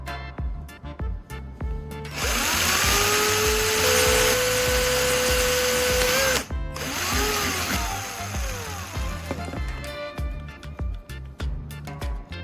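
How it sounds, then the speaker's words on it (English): A power drill bores a hole near the bottom of a bottle, a loud sustained whine for about four seconds that stops, then brief restarts and scattered handling knocks follow. "Next, I'm going to drill a hole near the bottom of the bottle."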